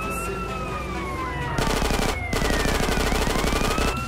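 Rapid gunfire bursts over a wailing police siren in GTA San Andreas during a level-12 vigilante mission, the siren steady throughout while dense automatic shots crackle loudly, pause briefly, then resume in a long continuous volley.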